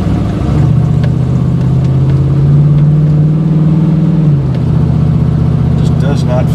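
Engine and muffler exhaust of a Chevy Blazer with a throttle body motor, a steady loud drone that rises in pitch briefly then settles, heard close throughout.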